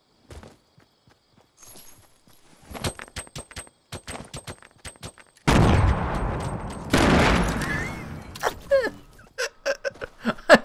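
Gunfire in the Fortnite battle royale game: sparse single shots and clicks, then two loud sustained bursts of rapid firing in the middle, followed by more scattered sharp shots, with a voice heard between.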